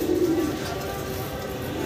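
Potter pigeons in a large cage coo softly with low throaty calls, mixed with faint background chatter and ambient noise.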